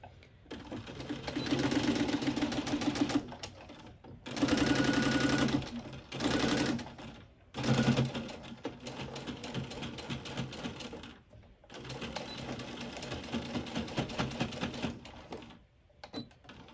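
A sewing machine stitches the seam of a fabric knotted headband, using the presser foot as the edge guide, in several loud bursts of rapid whirring broken by short pauses.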